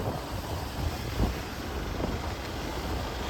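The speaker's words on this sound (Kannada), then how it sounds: "ಗೊತ್ತಿಲ್ಲ ನನಗೆ ಎಷ್ಟು ಜೋರಾಗಿ ಕೇಳಿಸ್ತದೆ ಅಂತ, ಗಾಳಿ ಇದೆ." Wind buffets a microphone outdoors on the way to the Panchamukhi Anjaneya temple, a steady low rumbling roar with a few stronger gusts and no speech.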